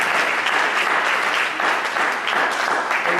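A round of applause from an audience at a sorority gathering, dense and continuous clapping at fairly high volume, holding steady for the full stretch without speech on top.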